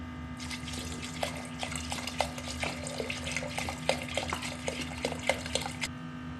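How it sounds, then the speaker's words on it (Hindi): Water runs steadily into a rice cooker holding rice for aloo matar pulao, giving a continuous splashing, trickling stream with small repeated plops under a low steady hum. "अब इसके अंदर हम पानी ऐड करेंगे।"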